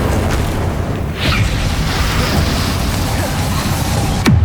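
An Incendio fire spell in the game Hogwarts Legacy is cast during a boss fight, filling the clip with a loud, sustained fiery roar and a sharp whooshing burst near the end.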